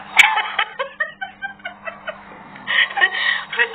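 Chickens clucking at close range, a rapid run of short repeated clucks followed by a denser burst of fowl calls, loud and alone without talk.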